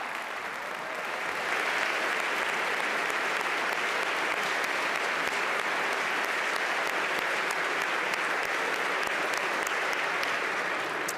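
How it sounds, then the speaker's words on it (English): A large audience at a state budget address applauds firefighters, a dense, steady wall of clapping that swells in after a second and holds evenly to the end with no talk. "Come on, we should all clap for our firefighters."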